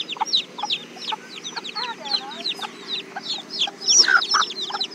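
Chicks and a mother hen at close range, with a steady run of high peeping and clucking calls over a low background hum and no talking.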